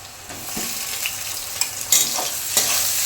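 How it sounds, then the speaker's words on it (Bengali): Mutton with fat and chopped tomato stirred in a frying pan, a steady close sizzle broken by several scraping strokes of the spoon against the pan. "এরপর আমার নেড়ে করে দিচ্ছি আমি"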